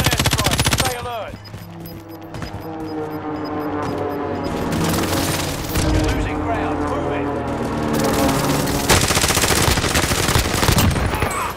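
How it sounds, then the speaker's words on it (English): Heavy gunfire with loud booming bursts from an enemy precision airstrike in a video game, sharp volleys at the start and end framing sustained engine drone and crackling shots, with a voice talking in between. "Enemy precision airstrike."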